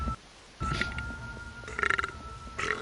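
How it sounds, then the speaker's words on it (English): A man burps in a video game, giving a few rough, gurgly belches over a steady background hum, with the last ones pulsing slightly. "This man burps in his head."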